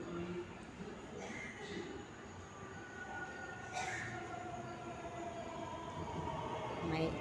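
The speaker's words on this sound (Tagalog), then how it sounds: "May train galing sa kabila." A train rumbles past on the opposite track with a steady low rolling roar and faint metallic squeals, heard from a short distance while people chat nearby.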